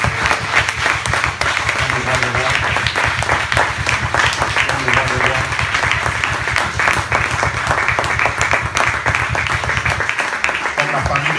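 A church congregation claps and cheers in sustained, dense applause for the whole stretch, loud and close, with a voice calling out over it before the noise thins near the end.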